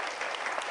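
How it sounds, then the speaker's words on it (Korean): Audience applause at a panel discussion on world hunger, a brief steady wash of many clapping hands heard alone at moderate level. "박수 한번 부탁드릴게요."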